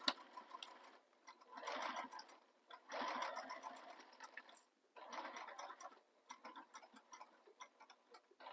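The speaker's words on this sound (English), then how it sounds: "And now I'm stitching the top of the opening closed." A sewing machine top-stitches a handbag opening closed, running in several short, quiet bursts of rapid mechanical stitching separated by brief pauses.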